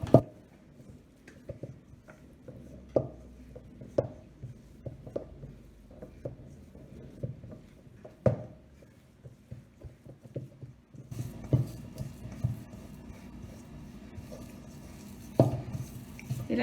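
A spoon stirring cookie dough in a bowl, soft irregular scraping and tapping strokes, quiet and close, with occasional sharper knocks against the bowl.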